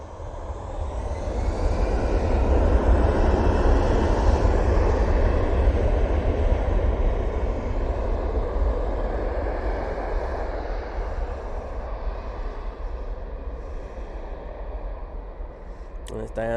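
A jet airliner roars past at Manchester Airport, a loud broad rumble that builds, holds for several seconds and slowly fades as it moves away, with commentators talking faintly beneath.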